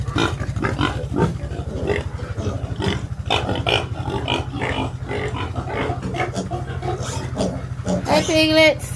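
Piglets grunting in a hog pen with deep bedding, a steady low rumble of grunts and snorts throughout, with a higher squeal near the end.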